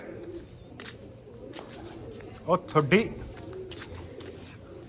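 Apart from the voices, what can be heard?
pigeons cooing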